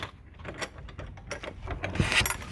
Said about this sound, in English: let's see if we can get through this gate